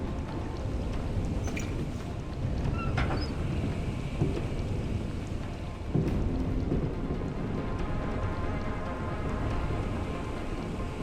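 Storm at sea in Deus Ex: Human Revolution, with steady heavy rain and rolling thunder, a few sharper cracks and knocks breaking through the continuous roar.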